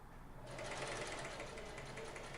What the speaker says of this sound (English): Top stitch the casing to the sleeve as close to the fold as possible.